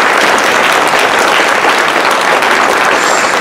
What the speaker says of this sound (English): We should all give ourselves a huge round of applause.